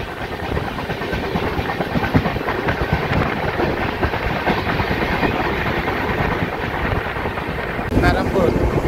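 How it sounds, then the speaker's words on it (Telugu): An LHB-coach passenger train runs at speed on the Perambur–Katpadi line, making a loud, steady rumble and rattle of wheels on rails that continues throughout, with a brief surge of added clatter near the end. "మన ట్రైన్ LHBతో రన్ అవుతుంది కాబట్టి 130 కిలోమీటర్స్ స్పీడ్ అయితే కవర్ చేస్తుందని అనుకుంటున్నాను"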